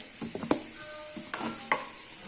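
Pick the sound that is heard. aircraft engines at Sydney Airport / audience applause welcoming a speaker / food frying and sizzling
food frying and sizzling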